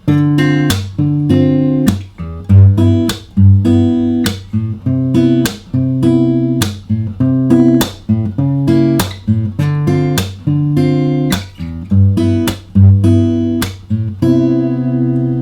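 Rhythmic R&B guitar strumming played without a pick, with sharp percussive muted slaps between chords, a steady syncopated groove played alone, close and clear, ending on a ringing chord.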